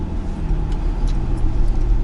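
A 2019 Mercedes-AMG G63 idling nearby, a steady low engine rumble holding even throughout with a slight swell toward the end, no voices over it.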